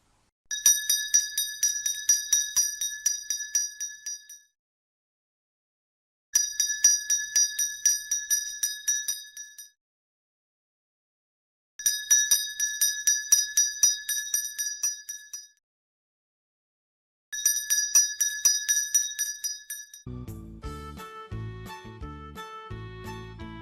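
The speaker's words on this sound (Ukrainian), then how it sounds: "Послухайте, скільки разів дзеленчить дзвіночок." A small bell jingles in four separate bursts of rapid tinkling, each followed by a pause, then quieter music begins.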